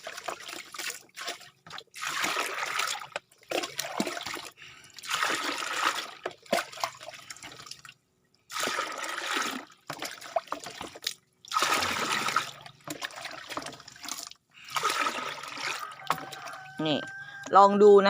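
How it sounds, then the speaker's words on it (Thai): Hot and cold tap water running into a bathtub until it is half full, in bursts of pouring and splashing separated by pauses, loud and close, ending with a brief tonal sound. "ตอนนี้คือน้ำร้อนนะคะเดี๋ยวเราจะผสมน้ำเย็นกันนะ ใส่ ไป จนครึ่งอ่างนะคะ"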